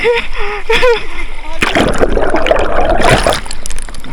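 Strong current of floodwater rushing and splashing after a big flood, a loud continuous churn with sloshing bursts, while a voice talks over the start.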